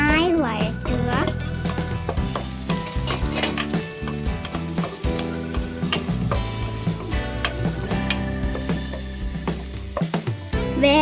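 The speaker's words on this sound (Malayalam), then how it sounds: "ഇനി വെളിച്ചെണ്ണ ചൂടായ ഇതിലേക്ക് ഉള്ളി ഇട്ട് കൊടുക്കുക. നന്നായി വഴറ്റുക." Sliced onion sautéing in hot coconut oil for chicken macaroni, a steady sizzle with stirring scrapes in the pan, heard beneath background music.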